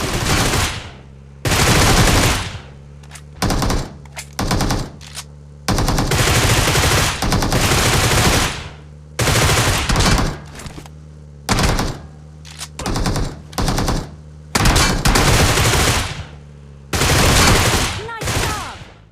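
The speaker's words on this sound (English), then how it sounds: "Passengers in a vehicle can peek out the window and shoot at enemies." Repeated bursts of automatic gunfire in PUBG, fired by passengers leaning out of a moving vehicle's windows, come in loud, sharp volleys separated by brief pauses throughout, with no talking.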